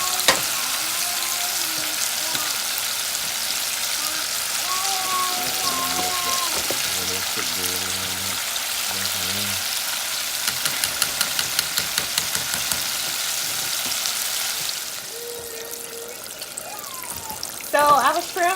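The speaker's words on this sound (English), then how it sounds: "So with these shrimps, they fry really quickly." Shrimp deep-fry in hot grease with a loud, steady bubbling sizzle that runs through the whole stretch, fading a little near the end. Some tonal noises and clicks come and go over the frying.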